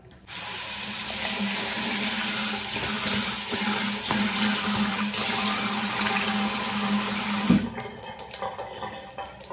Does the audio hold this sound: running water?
yes